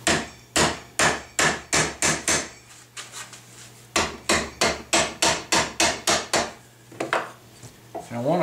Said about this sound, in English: And a rubber mallet will come in handy for getting this set right.